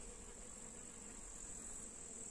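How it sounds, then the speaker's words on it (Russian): A faint, steady drone of honeybees working a flowering buckwheat field in mid-afternoon, a continuous distant buzzing hum with no talk over it. "Гудеж идет, несмотря на то, что около 3 часов, третий час, поле гудит."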